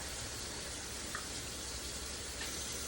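Hot water poured into a pan of fish curry, a steady broadband wash of liquid and faint sizzle running evenly throughout, close and moderately loud with no talk.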